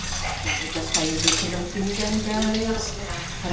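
Dishes being washed at a sink under running tap water, with plates and cutlery clinking close by and a voice talking briefly.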